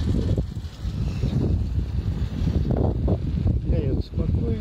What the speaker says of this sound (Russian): Ветер влево дует от нас.